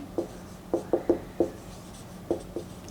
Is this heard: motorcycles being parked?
no